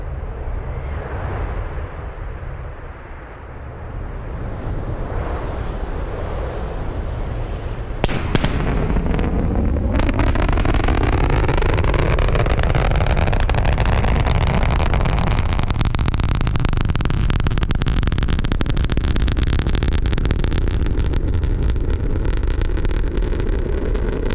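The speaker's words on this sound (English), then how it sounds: "General impact to those in the surrounding area is that brief thunder-like noise" A SpaceX Starship sonic boom at Starbase, Texas, during suborbital test flight 8 arrives as a sudden sharp thunder-like crack, followed by loud, sustained rolling rumble that fills the rest of the time.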